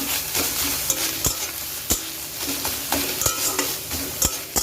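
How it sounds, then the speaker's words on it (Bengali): A spoon scrapes and stirs ghetkochu (taro) leaf paste with turmeric in a pan, rural-style, with a steady sizzle underneath and repeated sharp knocks against the pan, close and fairly loud, with no talking. "তো এটাকে আমি এইভাবে হচ্ছে নাড়তে থাকবো বেশ খানিক্ষণ"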